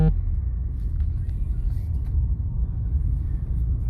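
A 2013 Mitsubishi Evolution X GSR on the move produces a steady, heavy low rumble of engine and road noise heard from inside the cabin. It continues throughout as the clutch engages, with no clear separate event.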